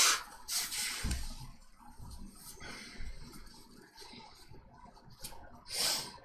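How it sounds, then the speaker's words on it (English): Someone blowing their nose, a few quiet, breathy snorting bursts spaced several seconds apart, close to the microphone, with faint room noise and murmuring in between. "Sorry, just blowing my nose here a little bit."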